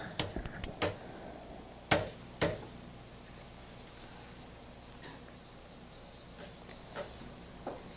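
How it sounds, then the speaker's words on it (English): Writing by hand during a lecture produces a few scratchy strokes and taps, with a couple of sharper knocks, in a quiet room. The sound is close but faint, and nobody speaks. "I'll write it down for you."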